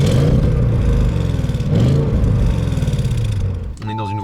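An Audi S8 engine delivers a muffled, deep exhaust note under acceleration, heard from inside the well-insulated cabin, with the revs climbing and dipping through gear changes before easing off.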